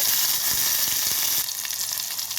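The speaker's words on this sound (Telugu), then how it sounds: "ఇవన్నీ వేసిన తర్వాత కొంచెం వేగనివ్వాలి" Cumin, mustard seeds, green chilies, curry leaves and tomato frying in hot oil for tomato dal, a dense crackling sizzle with a few spatula taps, close and brief.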